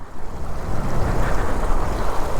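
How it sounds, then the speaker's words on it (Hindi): Rushing water from a mountain stream being waded across on the monsoon route from Kaza to Chandrataal in Spiti, a steady broadband wash that fills the clip, close and fairly loud, with no voices. "अभी क्रॉस करते हैं पानी।"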